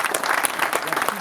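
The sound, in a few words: audience applause at conference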